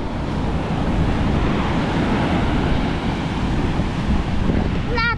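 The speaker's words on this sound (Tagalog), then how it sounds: "Mag-iingat po tayo sa alon dahil hindi po biro yan." Storm surge waves crash and wash onto the Bucana shoreline, a dense, loud, unbroken roar of surf and wind noise throughout, with a brief faint tonal warble near the end and no clear speech.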